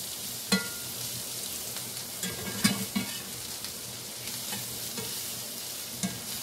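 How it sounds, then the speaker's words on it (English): Vegetables are stirred back into steak frying in a pan, a soft steady sizzle broken by occasional scraping clicks of a utensil against the pan, with no talking. "now I'm going to go ahead and add my vegetables back in here. Get them all combined."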